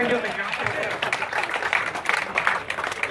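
Audience clapping at a Victory and Indian motorcycle showroom opening in Singapore, a steady, dense round of applause from a crowd close by that carries through the whole moment, with voices mixed in.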